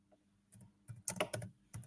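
Someone types on a computer keyboard in close, irregular bursts of crisp keystrokes separated by short pauses, with no talking.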